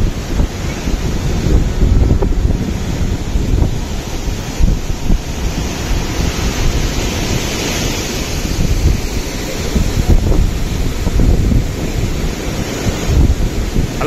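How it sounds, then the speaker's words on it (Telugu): A waterfall pouring down hard on the route from Anantapur toward Guna Caves, with spray drifting like fog; a steady, loud broadband roar of rushing water runs throughout, mixed with wind buffeting the microphone. "ఈ వాటర్ ఫాల్ ఎలా ప్రవహిస్తుందంటే భయంకరంగా ప్రవహిస్తుంది"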